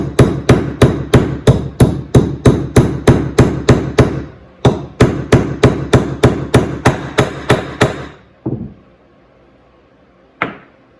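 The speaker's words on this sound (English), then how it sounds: "you just press it in with a small machinist hammer" A small machinist hammer taps a bushing into a 1971 Quadrajet carburetor base plate in a quick, steady series of sharp metal strikes, pauses briefly, continues, then ends with a few slower, isolated knocks.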